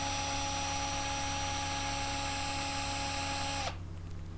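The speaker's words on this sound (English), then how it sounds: "And I'm going to start up the drill and move it slowly closer." An electric drill motor runs with a steady, high-pitched whine close by, held level for several seconds before abruptly cutting off near the end, leaving a faint hum.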